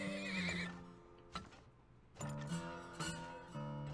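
A horse in the video game Turmoil gives a close, loud whinny with wavering pitch, followed after a short pause by a second whinny and clinking hoof-like clip-clops.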